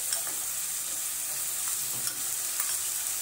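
Chopped onions and cumin sauté in a hot pan for tawa paneer pulao, giving an even close sizzle with faint scraping and tapping of a spatula, steady and unbroken, with no voices.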